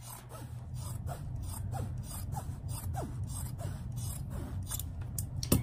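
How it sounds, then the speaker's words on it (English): Sharp scissors snip through the layers of a quilt with batting in a steady, repeated rhythm, close up, over a low constant hum. "take a really pair of sharp scissors and you're going to slide it in between all those layers"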